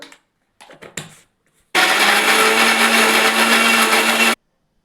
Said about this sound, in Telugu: ఇది వేసుకొని మిక్సీ పట్టుకుంటాను